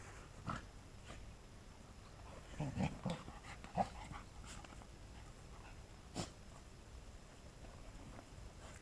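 A dog on a farm whimpering quietly in a few short, soft bursts, with faint pattering and snuffling against a low background hush.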